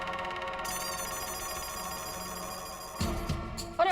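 A phone ringtone plays steadily and loud for several seconds, then a brief clatter and rustle cut in near the end.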